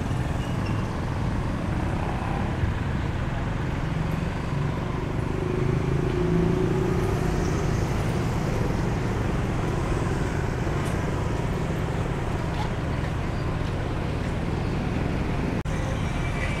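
Steady street traffic in Dumaguete, Philippines, a town without traffic lights: a continuous low rumble of passing cars and motorbikes at moderate distance, constant and unbroken, with no one speaking.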